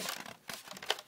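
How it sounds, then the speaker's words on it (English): A plastic bag crinkles and rustles in short bursts as a product is unpacked, close by and with no voices. "Comes in plastic bag."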